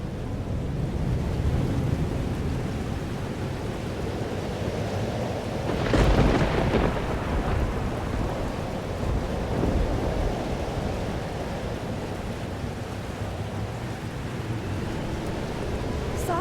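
A video game thunderstorm rumbles with steady rain and wind, a louder thunder crack breaking through midway before the storm settles back into a constant wash.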